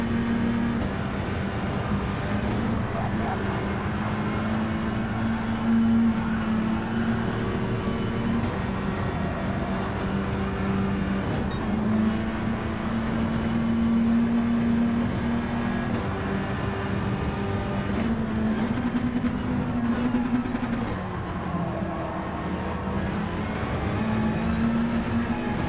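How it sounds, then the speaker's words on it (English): Racing cars in Gran Turismo 7 during an online lobby race, a steady, loud engine drone holding for the whole stretch with gentle pitch swells as cars run close by, and no talking. "Right, let's just let this car through."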